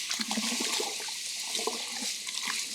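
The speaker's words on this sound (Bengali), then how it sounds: "সবগুলো ধান এভাবে নেড়ে দেবেন" Rice paddy seeds are stirred by hand in a container of water, giving a continuous close sloshing and swirling with small splashes and no voices.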